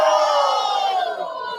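A large crowd roars a loud, sustained shout of agreement in unison, dense and close, fading slightly at the end.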